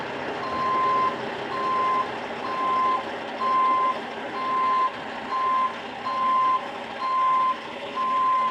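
A truck backs up slowly toward a trailer for coupling, its reversing alarm giving a loud, evenly spaced series of about eight beeps over a low engine rumble.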